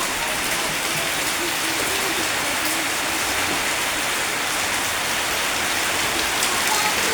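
Heavy rain falls steadily in a waterlogged rural setting, a dense, unbroken hiss of drops on surfaces at constant loudness throughout.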